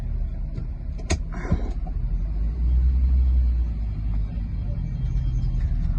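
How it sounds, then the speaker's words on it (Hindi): A 2011 Suzuki Cultus with a 1000 cc engine and manual transmission is driven, heard from inside as a steady low road rumble and engine drone, with a couple of brief knocks or clunks early on and no speech. "तो अब चलते हैं इस गाड़ी की छोटी सी ड्राइव के ऊपर और आप लोगों के साथ ड्राइविंग एक्सपीरियंस शेयर करते हैं।"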